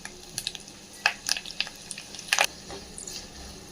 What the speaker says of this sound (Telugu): తాలింపు వేగింది.